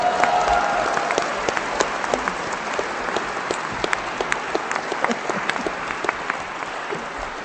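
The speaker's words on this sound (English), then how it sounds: "round of applause for our panelists" An audience at a convention Q&A artists panel applauds the panelists, a steady dense wash of clapping with sharper individual claps standing out, sustained at even strength throughout.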